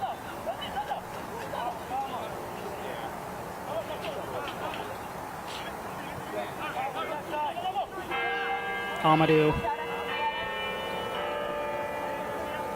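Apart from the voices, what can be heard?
bells ringing on University of Denver campus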